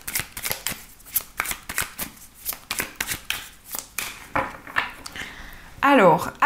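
Tarot cards shuffled by hand in quick riffling bursts, close and fairly loud, ending with a brief smoother sweep as the deck settles.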